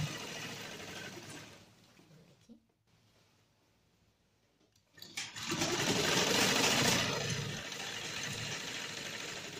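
Sewing machine stitching together the panels of a kalidaar palazzo, a steady buzzing run of stitching that pauses briefly and then resumes louder and continuous for several seconds, with no one talking over it.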